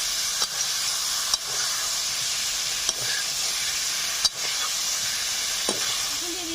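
Ritha fish curry with whole garam masala, potato and chopped tomato is sautéing in spices with a continuous hiss. Spatula strokes scrape the pan about every second and a half, close by and without speech.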